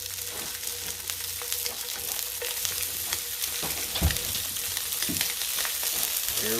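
Sliced Spam fries in a pan on a tabletop single-burner butane camping stove, giving a steady, loud crackling sizzle with scattered pops and an occasional scrape, no talking.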